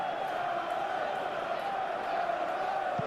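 Steady stadium crowd murmur from a PES 21 football simulation of an English Premier League match, a continuous mid-level roar with no clear peaks, held throughout.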